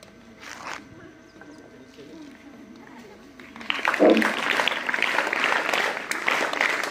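A school audience applauding as a tenth-grade student comes up on stage: after a quiet stretch with a brief voice and a hum, broad clapping swells in around the midpoint and continues steadily to the end.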